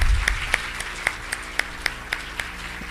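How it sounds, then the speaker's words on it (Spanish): A small lecture audience claps for Dr. McGowan, who spoke on publishing in scientific journals, with sparse, evenly spaced individual claps, close and moderately loud. "les pido un aplauso para el doctor McGowan"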